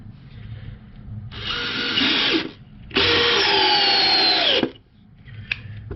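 A Dewalt 12-volt Xtreme 3/8-inch drill driver whirs at high speed in two bursts, a short run then a longer one, each cutting off abruptly, loud and close, with quiet background between.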